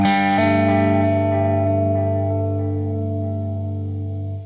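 An electric guitar played through an Eternity overdrive pedal rings out as a sustained, warm, slightly driven chord that slowly decays, with no talking.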